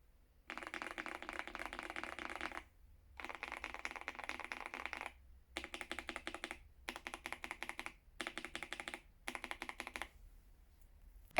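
Typing on a mechanical keyboard fitted with different profile keycaps comes in several separate bursts of rapid, close clacking keystrokes with short quiet gaps between them.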